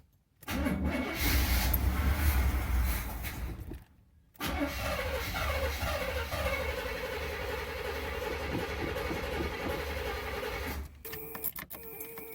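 A junkyard 1975 Cadillac Fleetwood V8 cranks and fires up after sitting 22 years, running loud and rough nearby, briefly stalling, then restarting and idling steadily before cutting out near the end.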